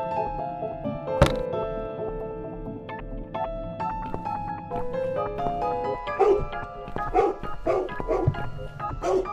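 William the dog barks and yips repeatedly in The Cat Lady video game, the barks clustering loudly near the end over a low droning score, with a sharp thump early on.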